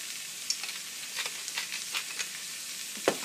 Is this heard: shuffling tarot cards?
no